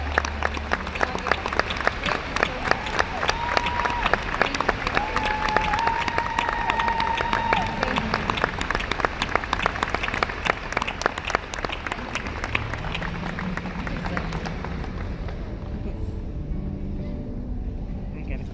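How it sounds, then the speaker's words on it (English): Audience at a 2018 eWomen event in Roanoke applauding speaker Ainsley Earhart, sustained crowd clapping for most of the time, then fading as voices talk over it. "Let's give her a round of applause, okay?"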